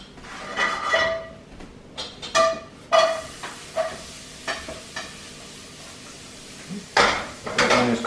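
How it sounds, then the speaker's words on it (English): Onions and meat sautéing in oiled pan for stuffed grape leaves, with intermittent scraping and clinking of a utensil against the pan over a soft sizzle, plus a brief sliding clatter near the end; no speech. "we're just going to saute the onions with the meat and get that started"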